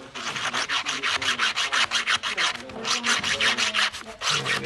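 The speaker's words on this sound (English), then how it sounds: "we'll file it out if it doesn't" A metal file working out a hole to fit a 3/16 bolt on an aircraft rudder part, loud close rasping in rapid, regular back-and-forth strokes, about four per second, alone.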